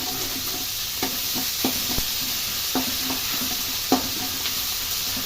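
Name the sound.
ginger paste frying in a pan for upma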